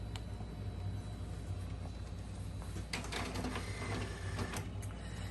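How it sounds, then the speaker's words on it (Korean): An HP inkjet printer, a high-speed X-series model such as the 477 or 452, runs a print quality report after a printhead repair, giving a steady mechanical hum with clicks and whirring carriage and feed sounds. "인쇄 품질 보고서 뽑아보겠습니다"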